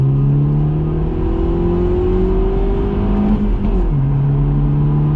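A BMW 114i hatchback accelerates hard on a timed run, its engine note rising steadily and loudly, then dipping briefly at a gear change before climbing again, with no talking.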